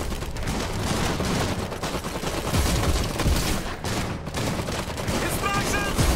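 Dense, continuous rattling gunfire and machine-gun bursts from units caught in a crossfire in the Iron Harvest strategy game, loud and sustained throughout.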